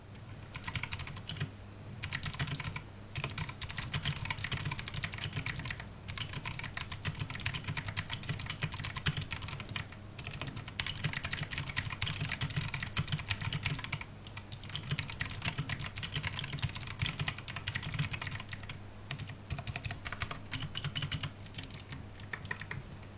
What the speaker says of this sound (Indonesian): ini dia sound profile yang dihasilkan dari keyboard Gamen Titan 3